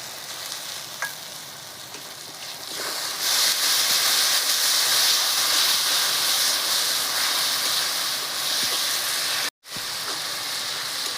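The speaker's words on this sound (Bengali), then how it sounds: "এখন আমি দিয়ে দিচ্ছি টমেটো বাটা" Tomato paste sizzling and frying in hot oil in a pan, a steady loud crackling hiss that swells after a few seconds and runs continuously, with a brief cut near the end.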